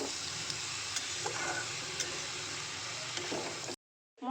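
Onions fry in hot oil for Odia dalma, giving a steady, close sizzle with faint stirring clicks that cuts off abruptly near the end.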